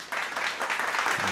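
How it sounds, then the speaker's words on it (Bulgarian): Applause from an audience at the opening of a Bulgarian folk festival in Krainitsi: a brief, dense burst of clapping that holds steady throughout. "Дайте аплодисменти,"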